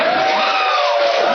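A studio crowd on a comedy talk show cheers and whoops loudly, a continuous roar of voices with a held shout running through it.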